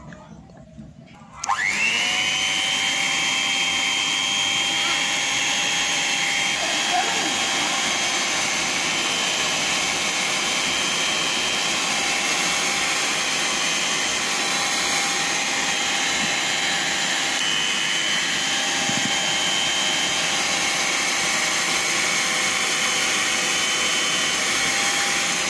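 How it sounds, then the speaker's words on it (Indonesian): An electric hand mixer whirs as it beats sweet potato dough, starting abruptly after a brief quiet moment and then running as a steady, loud, high-pitched motor drone with a slight pitch dip early on. "lalu bahan-bahan ini kita mixer sebentar."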